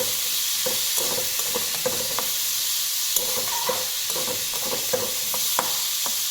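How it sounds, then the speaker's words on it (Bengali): Vegetables sizzle and hiss in a hot pan while a utensil scrapes and stirs them in irregular strokes, close up. "চলো এবার আমি সবজিটা নাড়িয়ে নেব।"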